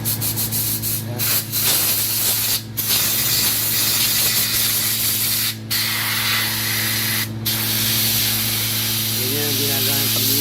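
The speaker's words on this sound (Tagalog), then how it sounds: "I-spray namin ng hangin naman." Steady, loud hiss of compressed air spraying through a Honda motorcycle carburetor being cleaned, nearly continuous with a few brief pauses, a low mechanical hum underneath.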